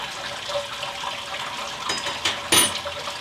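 Water draining out of a homebrew fermenting tank after its fitting is lifted and twisted, a steady trickling and gurgling flow at close range with a brief louder splash near the end.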